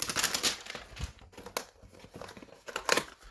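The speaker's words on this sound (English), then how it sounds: "just to rip it open" Walmart-exclusive Pokemon Unified Minds hanger box packaging being ripped open by hand, crinkling plastic and tearing cardboard in several close, uneven bursts.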